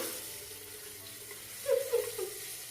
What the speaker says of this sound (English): Wet the hair, wet the hair. Can't forget to wet the hair.